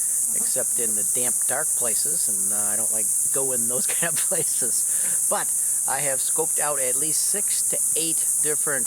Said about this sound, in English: The 7-year cicada are out.